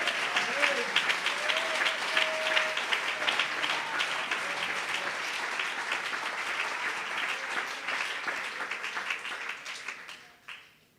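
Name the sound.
church congregation applauding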